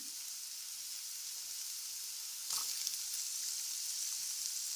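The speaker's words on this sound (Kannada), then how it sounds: "ಈಗ ಇದಕ್ಕೆ ನಾನು ಈರುಳ್ಳಿ ಹಾಕ್ಕೊಳ್ತೇನೆ" Onion frying in oil for radish chutney, a steady hissing sizzle that jumps louder midway as more goes into the pan, close and continuous with no talk.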